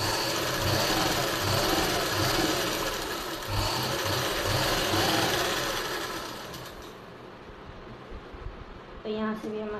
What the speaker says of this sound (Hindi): और एक सिलाई और लगा लेंगे